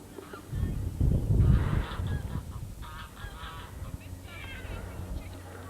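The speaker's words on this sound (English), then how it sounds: "Sound of ducks." Waterfowl call near Holyhead, Anglesey in North Wales, loud honking quacks that swell in a burst and then continue as scattered calls at moderate distance over low wind rumble.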